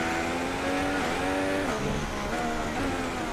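Engine of a Formula 1 race car in the F1 2016 video game, sliding in rain at the Spanish Grand Prix in Barcelona, a continuous loud high-pitched whine that rises and dips as the car is caught, with no talking.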